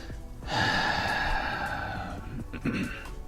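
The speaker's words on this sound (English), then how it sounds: "Take a big, deep breath with me." A big, deep breath drawn in during a guided meditation on peace, a long airy inhale starting about half a second in and lasting nearly two seconds, close and fairly loud, with a softer breath sound near the end.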